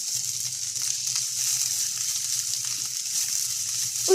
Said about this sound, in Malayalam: എന്നിട്ട് നമുക്ക് അതിലോട്ട് ഒരു 1/2 ടേബിൾ സ്പൂണോളം മഞ്ഞൾപ്പൊടി ആഡ് ചെയ്ത് കൊടുത്തിട്ട് അതും കൂടെ നന്നായി വഴറ്റി കൊടുക്കാം